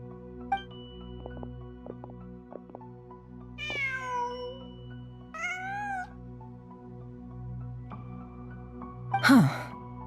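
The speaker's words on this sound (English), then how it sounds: "Just a cat." A cat in Genshin Impact gives two distinct drawn-out meows, alone over a steady humming game ambience, followed by a short sharp squeak-like sound near the end.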